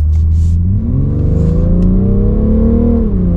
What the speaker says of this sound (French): cette sonorité du 6 en ligne, pourtant c'est un diesel